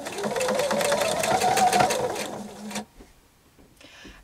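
A sewing machine runs steadily for a few seconds, tacking down a pleat in a knit headband made from an old shirt, then stops abruptly, leaving near silence and a faint rustle.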